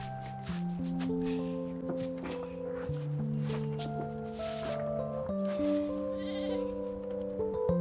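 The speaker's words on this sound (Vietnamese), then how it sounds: "Mang con dê của cháu đi." A goat bleats repeatedly in loud, drawn-out, wavering cries close by, one call running into the next with only brief breaks, while soft thumps and shuffles sound underneath.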